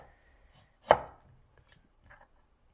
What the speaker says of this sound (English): Now we cut the ginger into slices.